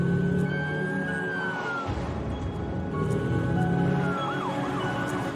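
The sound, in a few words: ambulance siren in ambulance simulator video game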